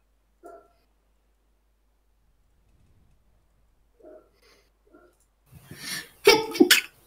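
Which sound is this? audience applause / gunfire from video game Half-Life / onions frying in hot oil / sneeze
sneeze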